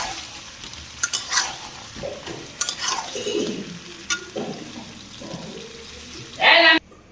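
Fried potatoes and eggs are stirred in a pan on low heat, with scraping and stirring strokes over a gentle sizzle, then a short loud hiss near the end.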